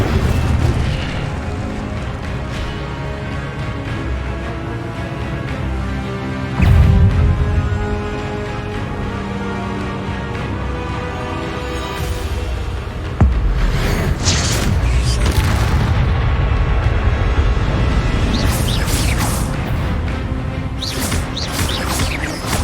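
Incendio fire spells cast in the Hogwarts Legacy video game, heavy booming blasts and crashes over a continuous dense game soundscape, with louder bursts near the middle and toward the end.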